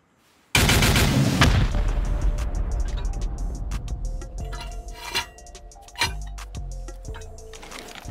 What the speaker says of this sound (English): We could rocket right into there. Yeah. 8 rockets.